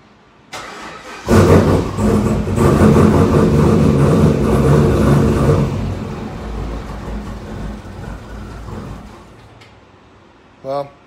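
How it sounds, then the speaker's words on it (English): A car running a home-written custom startup tune cranks, then fires and roars loudly for a few seconds before dying and fading out, followed by a brief short noise at the end. "Started for a second, but then it didn't want to run after that."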